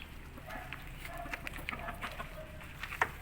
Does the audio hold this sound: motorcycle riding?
no